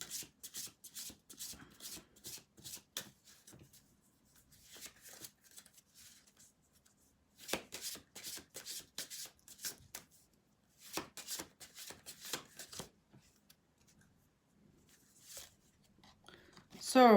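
Oracle cards are shuffled by hand in repeated crisp riffling bursts with pauses between, close to the microphone, under faint whispery sounds.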